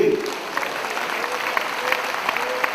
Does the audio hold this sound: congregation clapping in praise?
yes